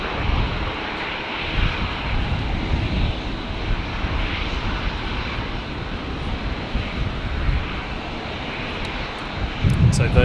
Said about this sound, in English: So Virgin 318 departing here to Melbourne, 19 left.